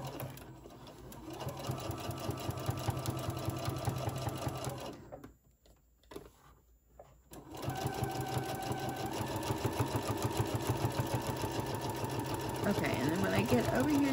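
A sewing machine stitches along the bottom seam of a pleated fabric face mask, running steadily and close with a short pause midway before resuming, with a voice talking over the whirring.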